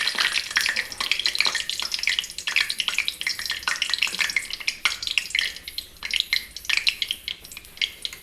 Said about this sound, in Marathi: तेल गरम झालं, तेजपान टाकून घेऊ।